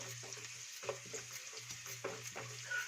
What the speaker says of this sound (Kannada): ಸ್ವಲ್ಪ ಕಲರ್ ಚೇಂಜ್ ಆಗೋವರೆಗೆ ಹುರಿಬೇಕು.